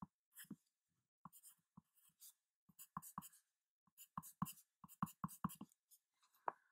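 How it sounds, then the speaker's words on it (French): A pen writing Japanese characters on paper: irregular bursts of close scratching strokes and taps, sparse at first and then quicker and denser, with silent pauses between characters. "je vais écrire"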